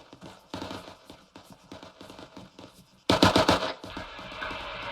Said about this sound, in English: We got gunfire to our front